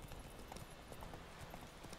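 Horse hooves drum steadily across the whole stretch in The Witcher 3, a fast, dense run of hoofbeats under a busy game soundscape.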